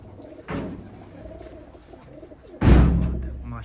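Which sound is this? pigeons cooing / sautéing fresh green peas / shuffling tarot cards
pigeons cooing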